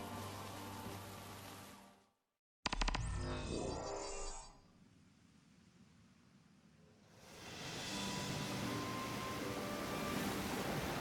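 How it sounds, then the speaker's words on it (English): Ship sailing across the sea in Final Fantasy XV, a steady wash of waves and engine rumble that cuts out abruptly, returns with a loud burst, fades to a low murmur, then swells back into broad ocean noise. "I've always wanted to go sailing like this"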